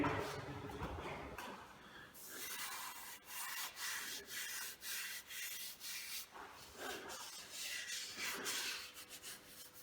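Wood on a castle model is sanded by hand in repeated scratchy strokes, close and fairly quiet, with brief pauses between passes and no talk.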